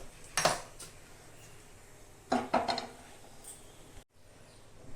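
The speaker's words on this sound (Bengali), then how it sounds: "পটলটা ভাজার জন্য আমি কড়াই বসিয়ে দেব।" A metal kadai is set down on the stove before frying pointed gourd, giving two clattering metallic knocks and scrapes about two seconds apart, moderately close, over a quiet room hum.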